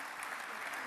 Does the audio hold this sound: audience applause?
yes